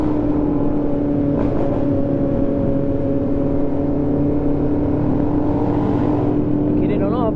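A Kawasaki motorcycle engine roars hard on the Serra da Anchieta mountain road, holding a loud, steady droning note that climbs in pitch near the end.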